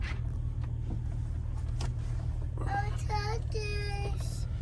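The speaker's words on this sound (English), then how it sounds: "You boys hear the tractor?" Tractor engine running outdoors as a steady low rumble under the whole clip, with children's voices and brief calls rising over it near the end.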